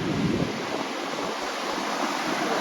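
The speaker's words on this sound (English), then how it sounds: "The ocean just looks a little more angry today than usual." Surf rolls and breaks along an exposed Oregon beach near a river mouth on a rough day, a steady close wash of broadband noise with wind buffeting the microphone throughout.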